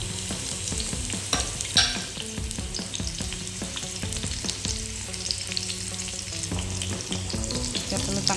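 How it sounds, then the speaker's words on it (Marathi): Sliced onion and ginger fry in a spoonful of oil on a tawa for a drumstick curry, with a continuous close sizzle and occasional scraping stirs, and no voices. "आता ह्या सगळ्यांना आपल्याला तळून घ्यायचं आहे"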